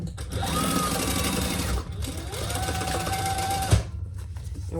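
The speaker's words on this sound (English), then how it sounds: "And then we're going to stitch this side" A sewing machine runs steadily, stitching a seam closed on a fabric sling, in two continuous bursts separated by a short pause, with a small clunk near the end.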